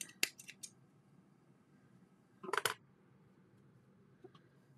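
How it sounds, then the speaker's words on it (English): Scissors snip yarn during blanket crocheting, a few sharp close cuts at the start and a quick double snip midway, separated by near silence. "Just snip it."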